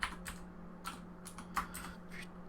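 Close computer keyboard typing: a quick, uneven run of soft key clicks over a steady low hum, with no talking.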